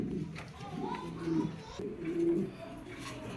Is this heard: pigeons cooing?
yes